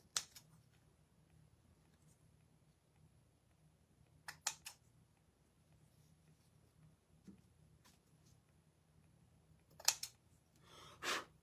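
Scissors trim fabric pieces for a gingerbread decorative pillow, giving a few crisp, close snips spaced apart by quiet pauses, with a short cluster of cuts near the end.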